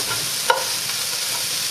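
Minced garlic frying in a pan while being stirred, a continuous light sizzle with a single sharp utensil tap early on.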